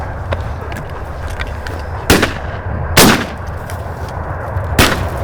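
Three loud, sharp shotgun blasts ring out a second or so apart while hunting sandhill cranes, ducks and doves in Texas, over steady outdoor wind noise.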